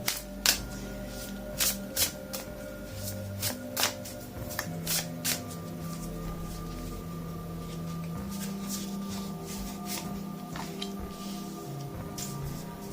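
Oracle cards being shuffled by hand, a steady riffling and sliding run of crisp card snaps with a few louder slaps early on, close and continuous with no talking.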